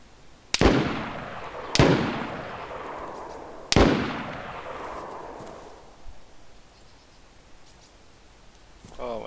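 Gunfire in DayZ Standalone arrives as three loud, separate shots, each echoing and fading over the next second or so, with fainter rumbles after them.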